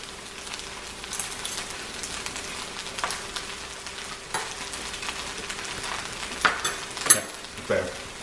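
Vegetable fried rice with ginger and black pepper is stir-fried in a pan. A steady crackling sizzle runs throughout, with a few sharper scrapes and taps of a spoon near the end.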